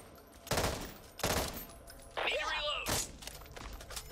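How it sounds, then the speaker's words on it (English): Three-round burst gunfire from a rifle in the zombie shooter Back 4 Blood: several sharp, loud bursts spaced about a second apart, with a crunchy shattering impact in between and someone speaking over the shots. "Don't step in front of me while I'm shooting."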